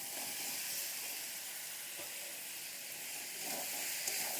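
Masala for a Bengali koi fish curry sizzles steadily in a pan as potato and red radish go in, a soft even hiss of frying with faint stirring near the end.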